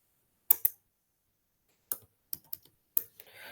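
Sparse keystrokes on a computer keyboard, typing the Linux top command, come in short quiet clusters of clicks separated by silent pauses, close and alone.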